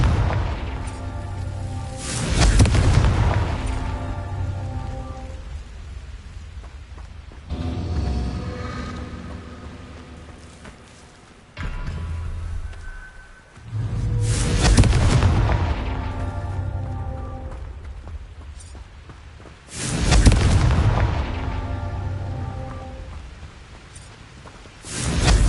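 Confringo blasting spell explosions in Hogwarts Legacy, four loud booming blasts at roughly regular intervals, each with a rumbling tail that fades before the next hit.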